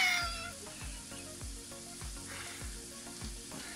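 Sausages fry in a pan with a quiet, continuous sizzle, accompanied by a steady series of soft low thuds roughly every half second, with no one talking.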